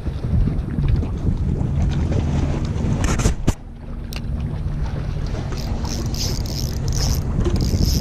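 Steady wind buffets the microphone outdoors on the Sydney Harbour shore while land-based fishing, a constant low rumble with a brief sharp knock partway through; no one speaks.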